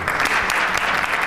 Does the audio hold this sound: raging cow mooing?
no